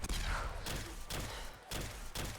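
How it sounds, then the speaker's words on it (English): A plasma gun fires repeatedly in Fallout 4, four or five sharp, loud zapping shots spaced roughly half a second apart over a dense combat background. "it makes that cool sound from Fallout 3, the same plasma gun sound"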